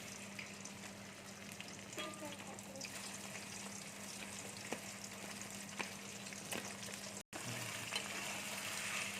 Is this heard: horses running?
no